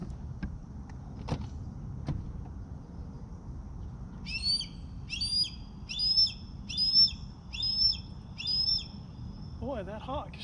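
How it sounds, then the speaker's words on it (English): A hawk screams repeatedly near a summer river at Lake Lanier, a series of about six sharp, high, evenly spaced cries at middle distance, with a low outdoor rumble beneath and a brief lower call at the end. "Boy, that hawk sure is screaming."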